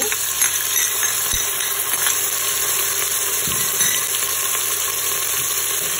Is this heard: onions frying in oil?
yes